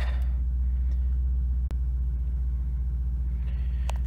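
A 2003 Jaguar XJ8 engine idles steadily after a spark plug replacement, a low continuous rumble close to the microphone with one brief dropout partway through and faint higher noises near the end.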